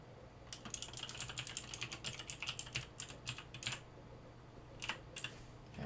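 Java code being typed on a computer keyboard, heard as rapid bursts of crisp, close key clicks with short pauses between runs, faint and without talk.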